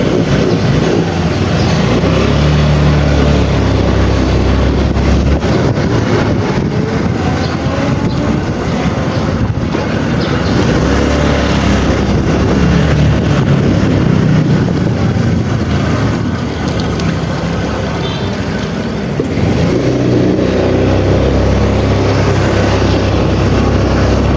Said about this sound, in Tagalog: Tahimik ng makina guys oh.